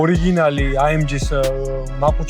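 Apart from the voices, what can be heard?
None of the usual background noises is heard.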